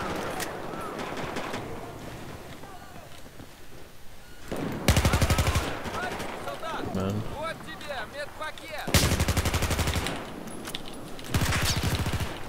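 M416 assault rifle with heavy barrel firing in Battlefield 4, rapid loud automatic bursts of gunfire in several separate volleys over busy battlefield noise, with someone talking between shots.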